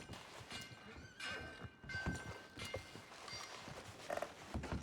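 Horse in Red Dead Redemption 2 whinnying close by amid clip-clopping hooves, a quiet uneven patter of steps with a neigh early on and another snort later.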